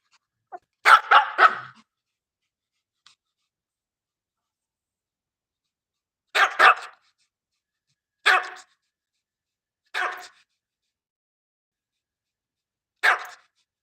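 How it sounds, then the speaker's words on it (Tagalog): A dog barks in short isolated bursts, about five separate barks spaced several seconds apart with silence between, fairly close and loud. "Ay, maingay yung aso ko."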